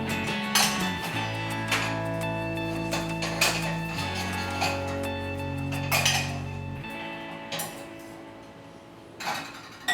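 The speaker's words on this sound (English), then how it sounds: "So now you want to stir very, very quickly." A spoon stirs sticky syrup-coated pumpkin seeds in a very hot pot, with quick clinks and metallic scrapes against the pot over a humming tonal background.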